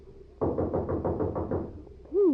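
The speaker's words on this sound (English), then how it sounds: "Here's a knock that ought to bring out the militia." Loud, rapid knocking on a door in an old radio drama, about eight heavy raps in a steady run, followed by a brief voice.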